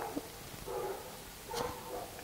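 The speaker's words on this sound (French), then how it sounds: "vous avez la joie d'entendre des chiens" Dogs barking in the distance, a few faint scattered barks and yelps over a quiet background.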